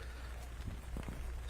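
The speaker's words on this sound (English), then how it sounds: "Rain is definitely picked up a little bit here." Steady rain falls during a girls' varsity high school softball playoff game, a constant dense hiss filling the whole stretch with no talk over it.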